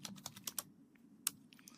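Fingers tap out a short burst of keystrokes on a computer keyboard, quiet and close, in uneven quick clicks with a brief pause before a few final taps.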